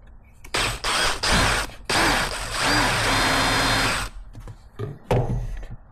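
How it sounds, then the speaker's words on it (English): A power drill enlarges a hole into a bigger one on a 1952 Chevy truck in a series of short trigger bursts. A longer sustained grinding run follows, then a few more brief bursts. It sounds close and loud. "Now I'm gonna drill the bigger hole."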